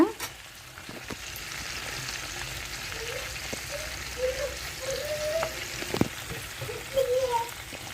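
Chana dal boorelu, a sweet made for Ugadi, deep-frying in a pan of oil: a steady, close sizzle with soft bubbling and a few light pops and clinks throughout.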